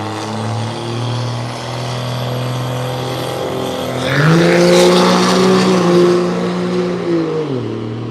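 A big Dodge diesel truck at a Tulsa street takeover drag race rumbles at a steady idle, then roars off the line into a loud surging rev before the engine note drops away.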